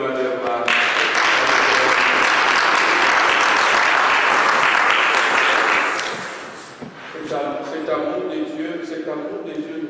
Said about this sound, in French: On acclame pour le roi des rois.